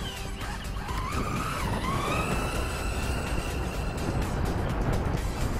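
LRP S10 Blast BX2 brushless 4WD RC buggy driving, its high electric motor whine rising and sliding in pitch over steady road noise as it accelerates and turns, with no talk.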